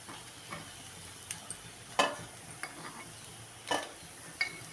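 Appam frying in hot oil in a home kitchen, a soft steady sizzle with occasional sharp scrapes and clinks of a utensil stirring and lifting in the pan.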